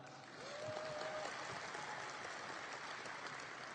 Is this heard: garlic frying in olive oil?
no